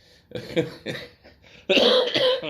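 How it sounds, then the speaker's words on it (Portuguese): A series of short coughs close by, several quick bursts followed by a louder, harsher coughing fit at the end. "Aí tosse"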